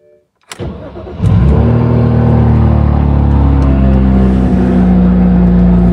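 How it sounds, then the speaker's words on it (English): A BMW Z4 with the N54 engine cranks over and catches, then settles into a steady, loud idle that runs close by with no voices. "We'll start the vehicle here."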